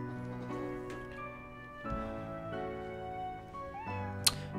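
A cat meows in a puzzle adventure game, a few short mews over steady, tonal background music, with a bright chime near the end.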